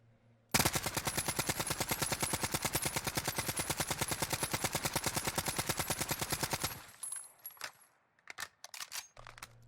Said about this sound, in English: First up, I'm going to be shooting at this target.